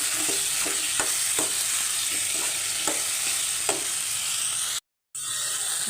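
Eggplant palya, North Karnataka style, fries in oil with a constant loud sizzle while a spoon stirs it, giving soft periodic scrapes and clicks; the sizzle briefly cuts out near the end.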